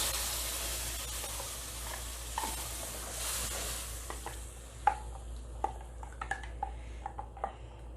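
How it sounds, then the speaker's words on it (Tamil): Ground masala paste poured into a hot pan for hotel-style paneer butter masala, a soft steady sizzle with scattered light spoon-and-pan clinks, fairly faint and without talk. "இப்போ அரைச்சி வச்ச பேஸ்ட்டை இப்போ ஊற்றிக்கலாம்."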